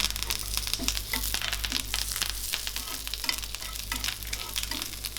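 Dried red chillies and curry leaves fry in hot oil with a busy, crackling sizzle and sharp spits, steady over a low background hum, close up and without speech.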